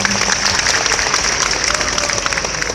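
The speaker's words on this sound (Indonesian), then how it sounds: "Nah ini kita tepuk tangan pada Pak Ahok ini." An audience at a religious lecture in Jakarta gives a brief burst of steady clapping, fairly loud and even, with a faint voice underneath.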